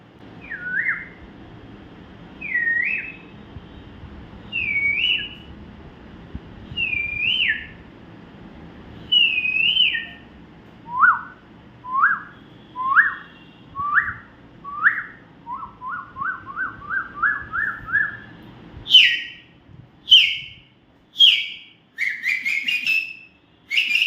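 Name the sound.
whistled imitation of a koel's call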